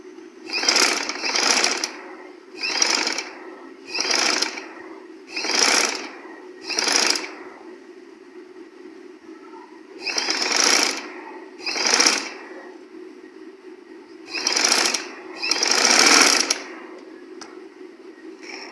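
A sewing machine stitches a neck piece onto a baby girl's frock in repeated short whirring bursts, about a dozen runs with brief pauses between them, close and clear with no talking.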